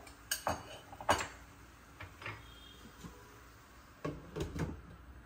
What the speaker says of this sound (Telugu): ఇప్పుడైతే మూత పెట్టి మగ్గనిద్దాం.